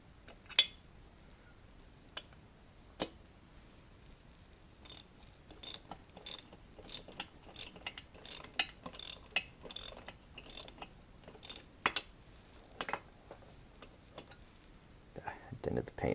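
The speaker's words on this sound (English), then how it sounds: "I'm gonna tighten these up by hand pretty much all the way, and then I'm gonna torque them" Cylinder head bolts on a 1976 Honda MR175 engine are tightened with a ratchet wrench, making a quiet series of sharp clicks in rhythmic bursts with pauses between them.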